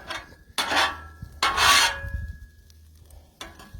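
Metal scraper rasping across a hot flat-top griddle while cooking steak, in two loud, close bursts about a second each, followed by a faint scrape near the end.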